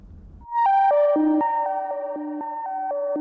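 A resonant Serum synth arpeggio of filtered noise, an LFO moving the cutoff, steps through bright, pitched notes in a steady rhythm, clear and alone after a moment of quiet.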